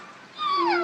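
A recorded dog whimpers and yips in a listening exercise for a deaf child, one short rising then falling whine heard alone, fairly clear and close.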